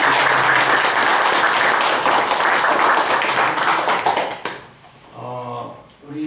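A church congregation claps together during a fifth-anniversary worship service, a loud sustained round of applause that fades out after about four seconds, followed by quieter sounds.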